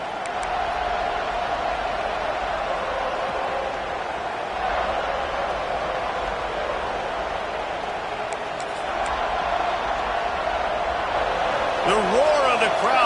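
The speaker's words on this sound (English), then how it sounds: "The roar of the crowd trying to fuel this defense to keep them pinned in their own end." A college football stadium crowd at an ACC game roars continuously as the home defense pins the offense deep in its own end. The wash of sound stays loud and even, and a voice cuts in near the end.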